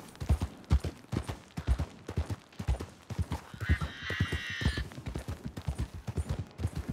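Horse hooves clip-clop at a steady walking rhythm in Red Dead Redemption 2, close and fairly loud, with a brief whinny-like tonal burst midway and some game voices around.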